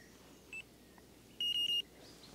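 Delkim carp fishing bite alarm set to high sensitivity, chirping outdoors: one short faint bleep, then a quick run of three louder beeps.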